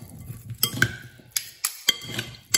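A utensil mixes mayonnaise into food in a bowl, making a few soft clinks and scrapes spaced unevenly, quiet and close with no talking.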